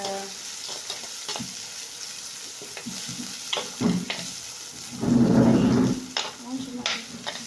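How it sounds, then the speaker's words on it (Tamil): Fresh curry leaves sauté in hot oil for a carrot poriyal, giving a steady close sizzle with scattered pops and spatula scrapes, swelling into a louder crackling burst near the end. "ஃப்ரெஷ்ஷாக எடுத்து வச்சுருக்க கறி லீஃப் இதை வதக்கிக்கோங்க"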